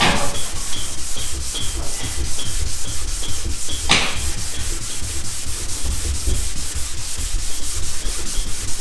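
Steady back-and-forth rubbing of 500-grit sandpaper on a Model A car body, a continuous close scratchy hiss with one sharper scrape partway through and no talking.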